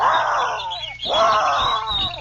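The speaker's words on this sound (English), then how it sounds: "The birds of the swamp. Hear it? Listen to that." Swamp birds call loudly and close in two sustained bursts of tonal, chattering cries separated by a brief dip, with no voices over them.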